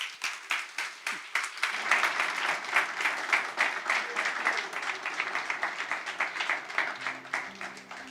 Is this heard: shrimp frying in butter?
no